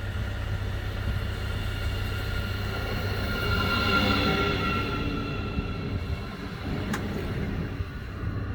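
A passenger train rolls along the rails with a steady low rumble and rushing noise heard from inside the carriage, continuous and moderately loud, with a brief faint click partway through.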